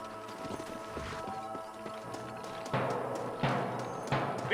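Horse hooves clip-clop through Red Dead Redemption, an irregular run of muffled thuds and knocks under game ambience that grows louder with sharper impacts toward the end. No one speaks.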